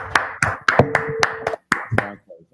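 A few people at an indoor class clapping in a loose, uneven rhythm, roughly a dozen sharp close claps with brief gaps, trailing off at the end.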